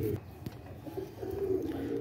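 A captured pigeon cooing close by, a short low murmuring call under faint background noise.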